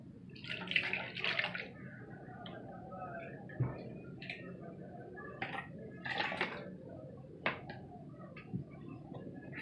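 Treated water is poured into a blender jar holding soaked oats, giving intermittent splashing gushes and small clinks of the jar close by at low level, with quiet pauses between pours and no talking.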